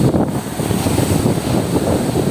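Loud wind buffeting the microphone over a broad rushing wash of sea surf, continuous throughout.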